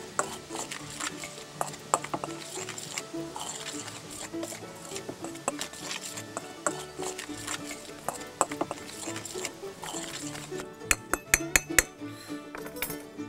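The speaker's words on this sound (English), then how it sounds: "we'll stir all of it together" A spoon clinks and scrapes inside a pot as beans and biscuits are stirred together, uneven metallic taps over low background noise, with a quick run of sharp clinks near the end.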